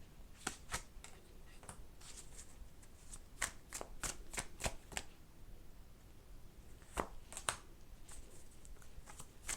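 Tarot cards shuffle in a quiet, close series of crisp riffles and soft snaps that come in bursts, with no voice.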